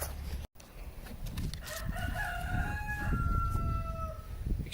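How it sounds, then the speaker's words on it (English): Roosters crow in long drawn-out calls over steady clucking and background farmyard noise, fairly close and continuous throughout. "excuse the chickens."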